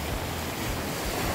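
A river swollen into flood after three days of heavy rain rushes in a continuous loud, broadband roar, with steady wind buffeting the microphone throughout.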